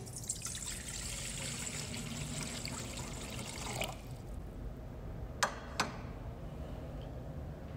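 Water poured during a baptismal blessing in a church worship service trickles and splashes steadily for several seconds amid room hum, followed by a couple of sharp clinks near the end.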